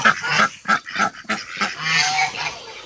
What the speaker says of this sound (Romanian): trei rațe românești